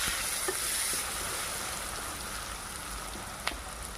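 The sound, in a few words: potatoes frying with onions and masala, stirred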